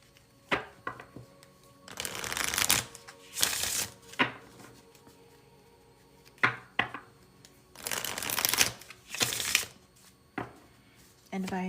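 A deck of advice cards shuffled by hand, several bursts of riffling and flapping cards with softer taps between, close up, with a person talking in the background.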